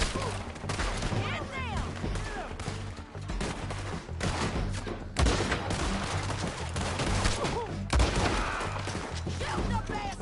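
Dense gunfire fills a Red Dead Redemption 2 shootout, with rapid overlapping shots and heavy thuds running continuously throughout while characters shout over the barrage.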